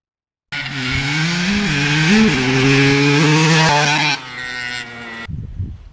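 A two-stroke motorcycle engine that has been sitting unused for a long time buzzes loudly and close, revving up and down a few times before it suddenly cuts off.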